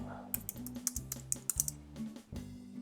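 Keys clacking on a computer keyboard while a Slack message is typed, a quick irregular run of close, crisp taps with short pauses, alone and without talk.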